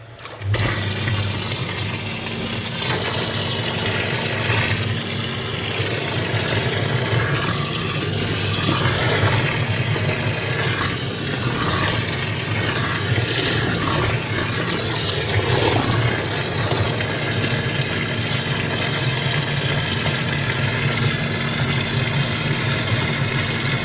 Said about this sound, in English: So this is 15 litres now, warmed water, just circulating.